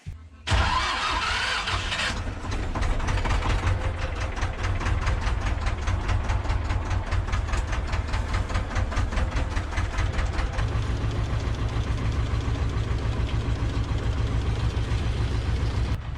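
Car engine cranking and catching, then settling into a steady close idle with a regular throbbing rhythm, in a farm setting before heading out to spray barley.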